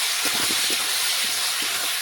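Masala-marinated chicken hitting a hot pan, giving a loud, continuous steamy hiss close by with no talk.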